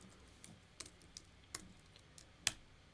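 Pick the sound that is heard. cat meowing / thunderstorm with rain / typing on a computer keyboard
typing on a computer keyboard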